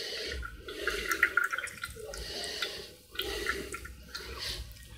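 Aloe vera juice pours through a sieve into a container in a steady liquid trickle with dripping and splashing, fairly close and continuous, briefly easing midway before running on.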